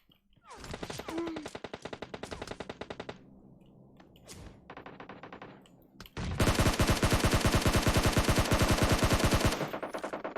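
Video game automatic gunfire crackles in long rapid bursts, loud and close, with a short pause and a single shot before an even denser sustained stream of fire.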